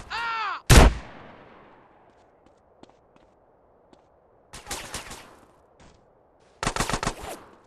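Bursts of gunfire in the game GTA San Andreas: a loud single shot early, then two clusters of rapid shots later, separated by near silence with a faint click or two; no talking.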